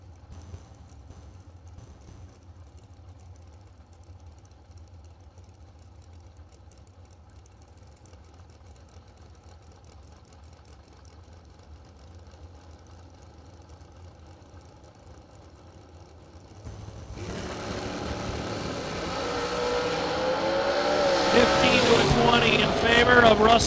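Drag racing cars, including the TNT Dragster, sit at the starting line with a low idling rumble, then a loud engine roar builds and swells in the final seconds of the launch, with a commentator talking throughout.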